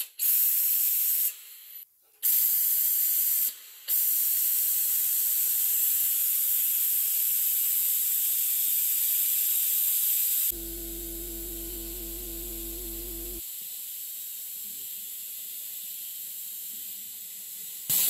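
A vacuum oil extractor runs during an oil change on a Land Rover Discovery, giving a steady close hiss with brief cutouts, then dropping to a lower hum with a buzzing tone for a few seconds.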